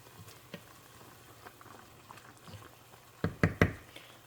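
Eggs fry in a pan for a potato lentil curry, a soft low sizzle and bubbling under a few utensil knocks, with a cluster of louder clacks near the end.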